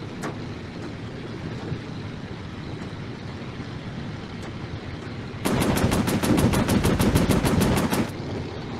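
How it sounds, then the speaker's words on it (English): Sustained machine gun fire from a warplane in a Pacific air battle video game, a fast steady burst of rapid shots lasting a few seconds over a constant engine drone, loud and close. "Overheated the machine guns"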